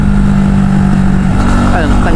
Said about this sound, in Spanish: tráfico.